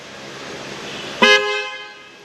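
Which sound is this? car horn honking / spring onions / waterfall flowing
car horn honking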